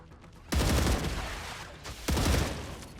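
Gunfire in the game Star Rupture comes as two loud, close bursts of rapid shots, the first lasting about a second and the second shorter, over a low background hum.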